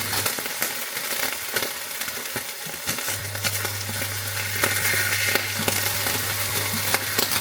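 A burger patty sizzling in a hot frying pan, a loud continuous crackling hiss with scattered pops and a low steady hum underneath, close and steady throughout.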